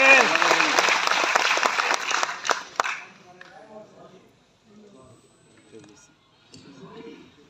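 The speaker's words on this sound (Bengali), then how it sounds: "ডিস্ট্রিবিউটর বৃন্দদেরকে আমরা করতালির মাধ্যমে সবাই একযোগে" An audience at a company's 24th anniversary event bursts into loud sustained applause for about three seconds, then the clapping fades out and quieter murmuring voices follow.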